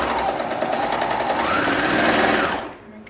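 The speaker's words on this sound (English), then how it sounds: "I'm going to stitch this little inseam right here." A sewing machine runs a continuous, close stitching burst along the inseam of boxer briefs, steady and mechanical for most of the span before stopping abruptly near the end.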